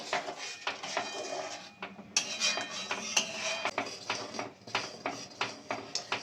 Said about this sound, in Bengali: চিনি দিয়ে ভালো করে এবার নেড়ে নেব